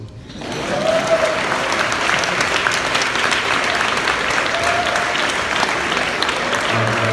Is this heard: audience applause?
yes